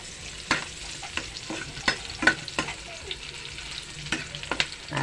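Onion and garlic sauté in a hot pan with a steady close sizzle, broken by several sharp clicks and scrapes of stirring.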